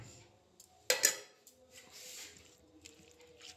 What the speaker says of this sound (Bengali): এবার আমি খুব ভালো করে নাড়িয়ে নেব